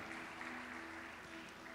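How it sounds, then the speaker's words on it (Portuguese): Applause from a church congregation at a youth service, a steady wash of clapping that fills the whole moment, fairly faint and continuous without any voice over it. "Cadê um aplauso para o Espírito Santo?"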